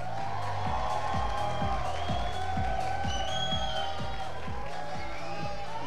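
A large crowd cheers and whoops for a contestant at the Miss Supranational Brasil 2022 pageant, a steady roar of voices over pulsing event music with a rhythmic bass beat throughout.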